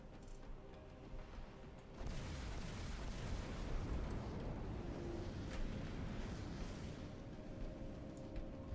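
Explosions sound as turrets are destroyed in the space game X Rebirth, starting with a sudden deep rumbling blast followed by a sustained roar and smaller bursts, fairly quiet overall and with no talking.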